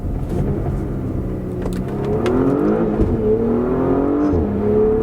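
A Porsche Panamera 4S engine is heard from the cabin while driving, its tone climbing and dropping through gear changes with light burbling crackles on the downshifts. The sound is moderately loud and steady, with no talk.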